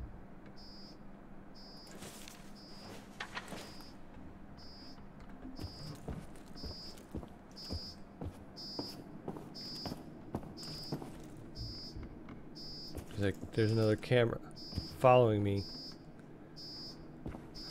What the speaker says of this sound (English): How do I turn off that alarm?